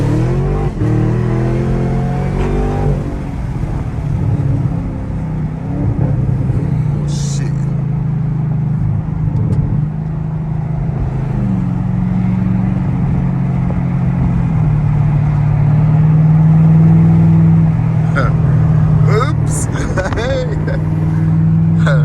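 A V6 car engine revs hard for a street racing pull, a loud, steady droning roar that holds throughout while people talk over it.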